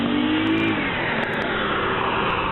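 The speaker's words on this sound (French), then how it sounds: "parmi lesquels se trouve Nouran Rezaï, surpris par l'arrivée d'une voiture de la police de Longueuil" A Longueuil police car approaches and its engine revs up loud and close, a continuous rising drone that eases slightly toward the end.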